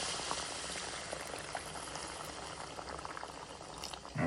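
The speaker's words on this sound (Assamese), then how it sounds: "এতিয়া ইয়াতে দি দিম গৰম পানী" Hot water poured into a hot pan of fried ginger and garlic, giving a steady loud boiling hiss and bubbling that continues throughout with no talking.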